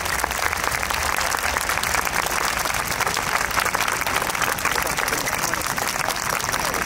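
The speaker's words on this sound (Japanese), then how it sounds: "全ての踊り子の皆様に今一度大きな拍手を" Loud, sustained applause from a large outdoor crowd at the Koiya Matsuri dance festival finale in Osaka Castle Park, a steady roar of many hands clapping throughout.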